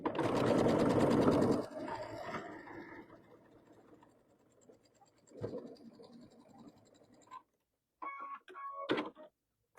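A sewing machine stitches quilt triangles in a fast, loud whirring run that stops abruptly, followed by quiet handling of fabric and a few short later bursts of stitching.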